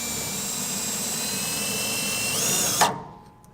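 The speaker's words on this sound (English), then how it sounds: "we got a self-tapping screw. We're just going to take that right here to this little cross member, and that'll ground out our electrical harness" A power drill whirs steadily as it drives a self-tapping screw into a cross member on a 2000 Chevrolet truck to ground a wiring harness, then stops abruptly near the end.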